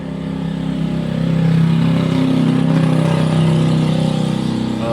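A Nissan X-Trail T30 engine idles steadily with a low, uneven rumble and slight roughness, close and loud, with no talking.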